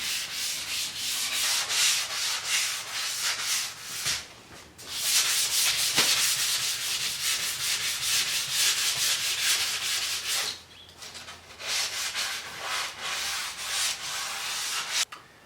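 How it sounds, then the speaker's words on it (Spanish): A car part is sanded by hand with an abrasive sponge in a steady run of rapid back-and-forth rubbing strokes, close and fairly loud, with a couple of short pauses and no talking. "podemos utilizar la esponja abrasiva, que nos ayudará a conseguir un lijado más uniforme por toda la superficie"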